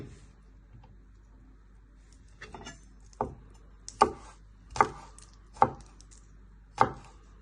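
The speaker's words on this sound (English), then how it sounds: "Then you just give it one final chop into the little pieces." A knife chops a garlic clove on a cutting board in several sharp, separate knocks, spaced about a second apart and growing firmer, in a quiet room.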